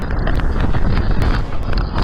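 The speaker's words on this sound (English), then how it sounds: "this is a huge hailstorm with wind gusts of up to 100 kilometers an hour" Loud, dense roar of hail hammering down on an Italian harbor amid wind gusts up to 100 km/h, a constant harsh rush with sharp impacts throughout.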